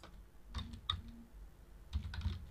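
Fingers tap a two-step authentication code on a computer keyboard, a handful of quiet, close key clicks in small irregular bursts with short pauses between them.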